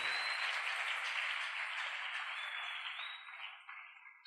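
A church congregation applauding, a dense continuous clatter of many hands that stays loud before thinning and fading toward the end.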